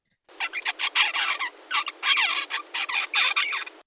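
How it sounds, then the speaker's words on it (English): A young songbird babbling in a rapid run of noisy, squeaky chirps and scratchy bursts, varied and irregular, close by and fairly quiet, with no talking. "when they start, they're basically babbling"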